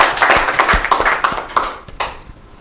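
An audience at a community event bursts into a short round of applause, with brisk overlapping claps that fade out after a couple of seconds.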